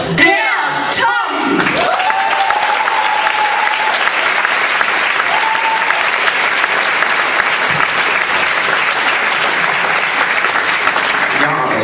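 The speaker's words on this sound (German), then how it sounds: "Euren Applaus für der Tom!" A live audience at a German poetry slam stage event breaks into loud, sustained applause with whoops and cheers; a few shouted voices rise at the start before the dense clapping settles into a steady roar that fills the room.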